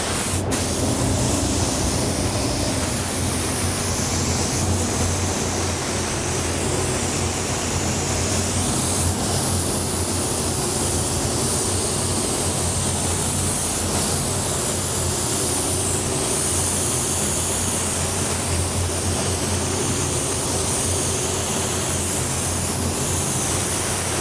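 Continuous loud hissing spray from a W400 paint spray gun with an LV WBX air cap at about 18 PSI, applying fluorescent paint, steady and unbroken throughout, with a low hum underneath.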